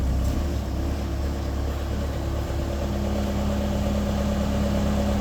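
Engine of a Bobcat A300 skid steer loader runs at a steady idle, a continuous low rumble with a droning hum throughout and no talking.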